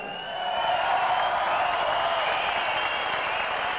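Steady applause from a crowd, a dense clatter of clapping that swells quickly and holds at an even level throughout.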